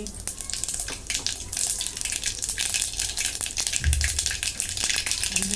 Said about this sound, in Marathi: पात्रे ठेवलंय त्याच्यामध्ये तेल टाकून घेतलंय तर मोहरी टाकून घेते जिरे